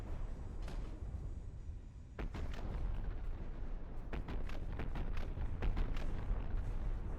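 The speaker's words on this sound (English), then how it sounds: "I heard a lot of cram firing noises and don't see any crams." C-RAM close-in defense guns firing in a video game: a loud, dense stream of booming, crackling bursts that keeps going with a deep rumble and sharp cracks mixed in.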